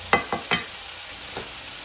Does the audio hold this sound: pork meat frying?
yes